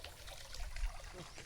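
Water pours and trickles into a container at a fish pond on a pig farm, a steady low splashing flow that swells slightly midway, close and fairly quiet with no talk over it.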